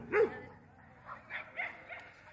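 Dogs crossing a stream in rural Michoacán, Mexico, give a short close yip-bark followed by a few fainter whimpering yelps over light outdoor background noise.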